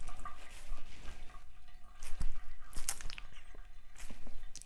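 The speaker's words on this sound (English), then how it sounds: "So I take the warm water. I'm at my sink, and I take the warm water, put it on my face." Warm water splashed onto a face at a bathroom sink, with faint, close wet splashes, drips and squishy patting in short uneven bursts.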